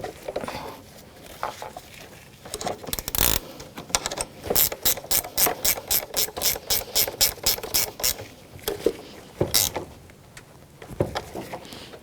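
A hand ratchet tightens the alternator battery stud nut on a 1984-2001 Jeep Cherokee, giving a close, rapid run of sharp clicking strokes in an uneven rhythm, with a few heavier knocks.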